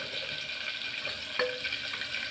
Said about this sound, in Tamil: அடுத்தது இதை வெங்காயத்தை வதக்கி விடலாம்.